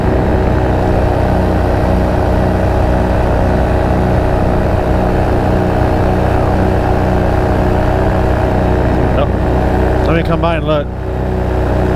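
Paramotor engine droning steadily at a field in Avon Park, a loud continuous buzz throughout as the powered paraglider takes off, with people talking over it.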